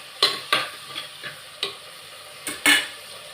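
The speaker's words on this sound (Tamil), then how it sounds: "தக்காளி ஒரு 3 பச்சை மிளகா போட்டுக்கிறேன். எல்லாம் நல்லா வதங்கட்டும்." Tomatoes and three green chillies stirred while they sauté in a hot pan: about seven distinct spoon scrapes and clatters over a low sizzle, close by, with no talking.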